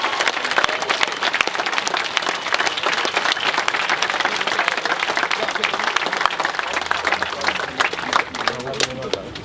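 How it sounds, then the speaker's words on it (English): Protesters at a 2020 Philadelphia rally applaud themselves, a dense, sustained wash of many hands clapping close by, with cheers mixed in and a voice briefly audible near the end. "So please, clap for yourself for bringing the peace."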